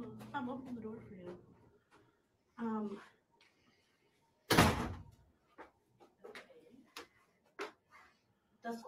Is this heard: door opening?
yes